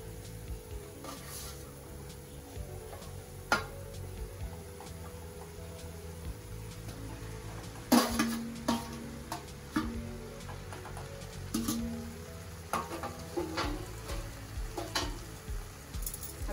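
Vegetable hakka noodles being stir-fried and tossed with tongs in a hot pan, a continuous soft sizzle broken by intermittent metallic clicks and scraping taps.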